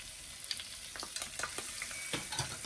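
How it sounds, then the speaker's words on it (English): Flour sprinkled into hot oil for pork chop gravy gives a faint, crackly sizzle with scattered small pops, close and quiet, with no talking. "So we just gonna sprinkle this flour right on into this oil"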